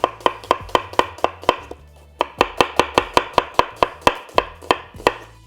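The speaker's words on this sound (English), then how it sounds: "Let's slice up these onions. So just go ahead and half your onions, and we're just gonna go and do a julienne straight across." A knife slices halved onions julienne on a cutting board in a steady rapid run of crisp close chops, with one brief pause partway through and no voices.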